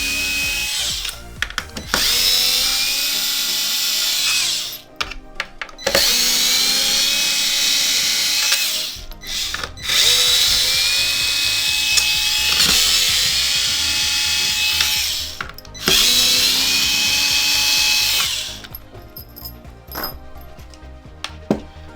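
An electric screwdriver backs out long flat-head screws from an Xbox One X console, whirring in four sustained loud bursts separated by short pauses, with no talking.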